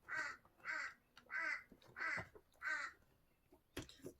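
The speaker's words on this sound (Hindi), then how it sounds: "कौवा भी बोल रहा है, काऊ काऊ काऊ।" A crow caws five times in a steady, evenly spaced series, fairly close and clear, followed by a brief soft rustle.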